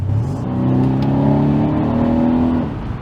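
Mercedes C63 AMG W205 accelerating hard in comfort mode, its engine note rising steadily after a transmission downshift, a loud continuous close-up roar that holds for about two seconds before easing off.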